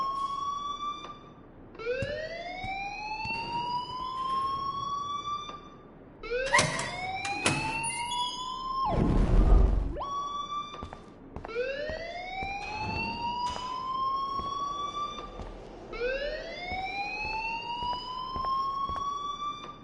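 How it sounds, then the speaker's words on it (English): A school alarm in a video game blares as a repeating rising electronic siren sweep, loud and continuous, with each cycle lasting a few seconds and brief bursts of noise in between. "please turn off that alarm since that's your job"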